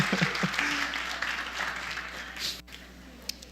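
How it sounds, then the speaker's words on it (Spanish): A church congregation applauding in praise during a Spanish-language sermon, a broad wash of many hands clapping that fades out, with a voice briefly over it. "Dale un aplauso al Señor."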